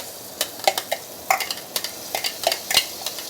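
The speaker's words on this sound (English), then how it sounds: "Next thing, you can tune down the fire a bit and add in the blended chili paste." Blended chili paste fries in a pan over lowered heat, giving a steady bright sizzle broken by frequent sharp stirring scrapes and clicks, close and alone with no voices.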